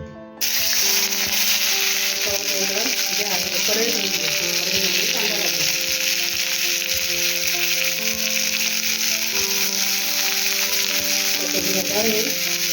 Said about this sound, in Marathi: कोथिंबीर खोबरं कांदा आलं लसूण ती आता भाजून घेते